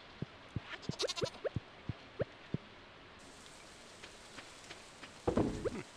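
Goat bleating in the Stardew Valley farming game, a loud burst of bleats near the end following a series of sharp game clicks and chimes.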